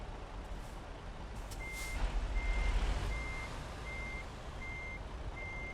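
A truck's reverse alarm in American Truck Simulator with the ProMods map sounds a steady series of six evenly spaced electronic beeps over a low engine rumble, with no talk.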